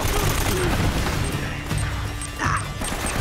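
A grenade blast and crackling gunfire in Uncharted: Drake's Fortune, a loud dense rumble of shots and debris throughout, with a sharper burst near the end.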